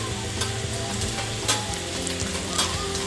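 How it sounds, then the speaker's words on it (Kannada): Chopped carrot and beans frying with onion in a pan, producing a loud, continuous sizzle with occasional scraping stirs, close by and without talk. "ಹುಳ್ಳಿಕಾಯಿ, ಕ್ಯಾರೆಟು ಎಲ್ಲನೂ ಸಹ ಹಾಕ್ಕೊಂಡು ಇದನ್ನು ಸಹ ಸ್ವಲ್ಪ ಹೊತ್ತು ಚೆನ್ನಾಗಿ ಫ್ರೈ ಮಾಡಲಿಕ್ಕೆ ಬಿಡಬೇಕು"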